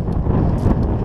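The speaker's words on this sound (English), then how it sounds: "As you can hear, it's windy as well." Low, heavy wind rumble batters the microphone continuously, a dense muffled roar with no other clear sounds.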